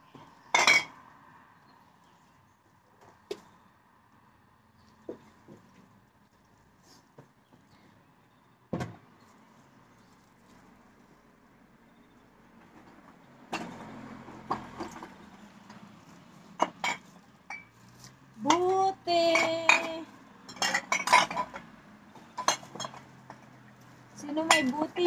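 Collected glass bottles clink and clatter as they are put into a bag, with scattered knocks at first and then a busier burst of rattling glass near the end, close to the microphone.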